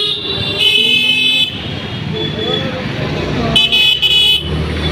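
Busy street traffic in an Indian market area, with a steady roar of engines and two bursts of car horn honking, one early and one near the end, under a voice talking.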